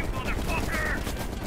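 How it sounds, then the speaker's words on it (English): Rapid automatic gunfire rattles in Call of Duty Black Ops Cold War during a realism campaign mission, a dense burst of shots mixed with game effects and a voice. "Are you shooting me?"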